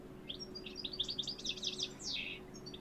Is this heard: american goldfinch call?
yes